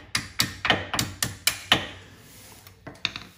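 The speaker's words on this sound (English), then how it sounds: "I can use my hammer to give it a little tap from the back" A hammer taps a Brembo brake caliper's pad pin in a quick series of sharp, ringing metal strikes, a short pause, then two more taps, close up.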